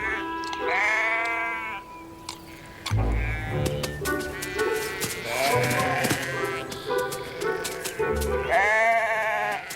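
Sheep bleating in an orchard, several loud, wavering calls close by, overlapping at times, with bird chirps mixed in.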